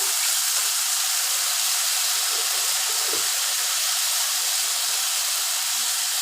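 Ginger, garlic paste and onion frying in hot oil for a fish curry, a steady loud sizzling hiss that holds evenly throughout.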